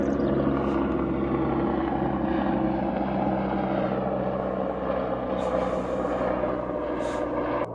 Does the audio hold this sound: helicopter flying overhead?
yes